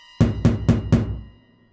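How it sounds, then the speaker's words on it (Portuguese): Four evenly spaced, loud knocks strike a door up close, each a sharp thud with a short ringing decay, followed by silence. "quando alguém bateu na porta"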